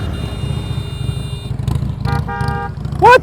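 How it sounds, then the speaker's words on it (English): A car-style horn on a Honda Gold Wing motorcycle sounds during slow-speed riding practice, giving a few short honks over a low engine rumble, then a quick warbling electronic chirp at the end. "He's got a car horn."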